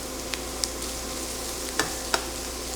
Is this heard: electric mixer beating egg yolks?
no